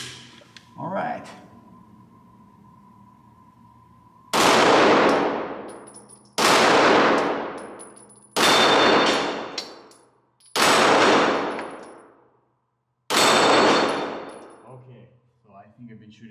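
Five loud, widely spaced shots from a Canik SFx Rival 9mm pistol fired at steel targets, each ringing briefly with a metallic clang, after a short stretch of quieter handling sounds.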